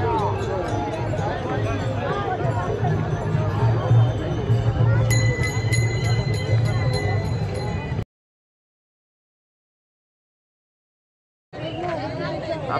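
A thick crowd of pilgrims at Pandharpur on Ashadhi Ekadashi fills the air with a constant babble of voices and shuffling, with faint bell chimes, then drops to total silence for a few seconds before the hubbub returns.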